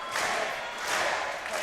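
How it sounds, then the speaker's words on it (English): Wrestling crowd at a leisure centre hall clapping along in a steady, loud rhythm, the sound filling the room with broadband crowd noise and no clear speech over it. "Nick Riley getting them clapping along at the Yale Leisure Centre."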